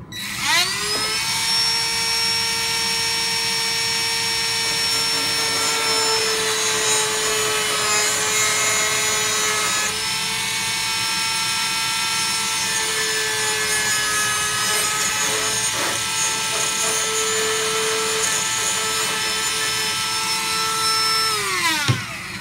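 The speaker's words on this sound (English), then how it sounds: "I'm going to use Dremel, but whatever means you choose to use," A Dremel rotary tool cuts an RC 4x4 trail runner car body in one long continuous pass, a high steady whine with a gritty rasping edge, close and loud, spinning down at the end.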